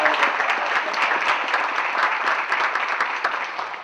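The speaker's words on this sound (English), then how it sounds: "give her a round of applause" Steady audience applause at an evening diversity and inclusion program event, dense many-handed clapping that holds at a fairly even loudness for a few seconds before easing slightly at the end.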